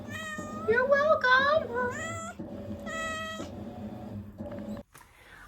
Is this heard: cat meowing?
yes